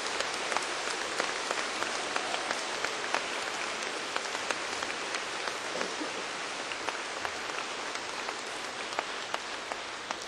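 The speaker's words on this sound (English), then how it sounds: "A nice round of applause for them." Audience applauding the 2010 U.S. Department of Energy Middle School National Science Bowl champions at the awards, a broad, sustained wash of many hands clapping in a large hall, steady and fairly loud throughout with no talk.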